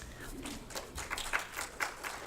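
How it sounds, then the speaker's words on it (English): Audience at a District 3 candidates debate in Marin applauding a speaker: a short burst of scattered clapping with a few sharper claps near the end, heard alone at moderate distance. "Hold your applause, please."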